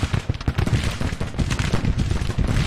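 Civil War troops firing muskets and artillery in a Grand Tactician battle: dense, ragged volleys of distant gunfire crackling continuously, with overlapping bangs and rumble.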